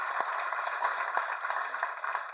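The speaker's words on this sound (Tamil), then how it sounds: "அம்மாவுக்கு வந்து ஒரு பெரிய கரகோஷம் கொடுத்தல எல்லாரும்" A hall audience gives steady, dense applause for Raghava Lawrence's mother at the Matram Araka event, filling the room without a break.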